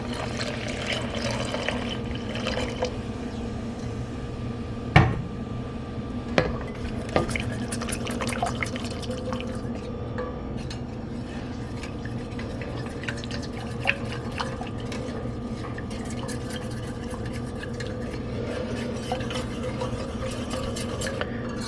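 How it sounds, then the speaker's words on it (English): Beef stock is whisked into thickening gravy for poutine in a pan: a continuous wet sloshing and swirling with scattered sharp clicks of the whisk against the metal, moderately close and steady. "So whisk it, see it gets so thick right away."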